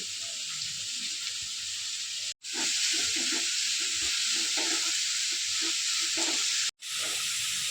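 Onions sautéing in a pan give a steady bright hiss with soft crackle, continuous and close, broken by two brief cuts of silence.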